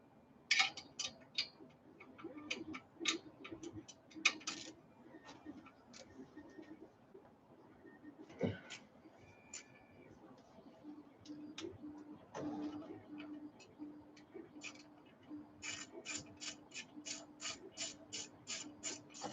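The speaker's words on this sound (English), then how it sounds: "Removing OEM bolts." A ratchet wrench backs out clutch bolts during a clutch job, producing close bursts of fast metallic clicking that start and stop in runs, with brief pauses and faint background voices.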